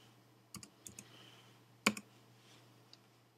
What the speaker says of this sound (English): So I type in password and